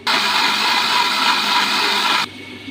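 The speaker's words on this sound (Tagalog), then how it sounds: "Maganda tayo ng kamatis at ito ay blender natin." A blender whirs loudly and steadily for about two seconds blending tomatoes, then cuts off abruptly, leaving a quiet hum.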